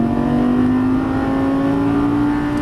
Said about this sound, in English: squeeze on the power as you unwind it, fast as you can, down the straightaway